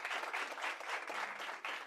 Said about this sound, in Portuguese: un fuerte aplauso. Salva de palmas para Susana.